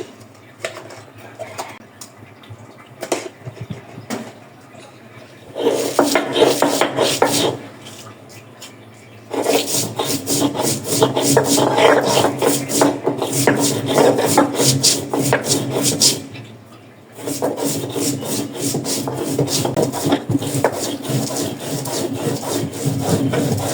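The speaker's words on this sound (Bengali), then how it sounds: "আমি মরিচগুলো বেটে নিব একটু লবণ দিয়ে" Chilies and salt are ground on a stone grinding slab with a stone roller. Close, rhythmic scraping and rubbing strokes come in several sustained bursts separated by short pauses.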